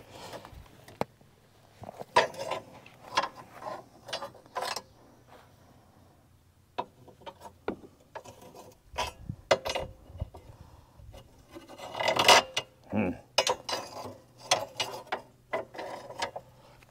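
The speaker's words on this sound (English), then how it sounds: "We'll just slide our needle rebar bender here." A manual rebar bender works a length of number 3 steel rebar outdoors during a pond overflow build, giving irregular metallic clanks, ratcheting knocks and scraping rasps in short bursts, fairly close, with no talking.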